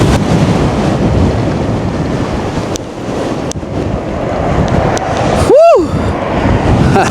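Steady broadband wind rumble buffets the microphone throughout, with a brief rising-and-falling whine from a passing Gspace Mars 11 GTR electric scooter near the end.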